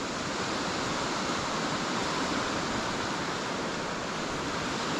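A hillside stream tumbles down into the River Wansbeck, producing a steady, dense rush of water that fills the whole stretch with broadband noise, loud and unbroken, with no voices.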